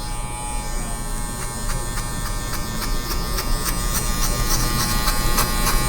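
Electric hair clippers fitted with a 3 guard run in a steady, loud buzz while cutting hair during a fade, with rapid rhythmic flicks of the cutting head across the scalp and no talking.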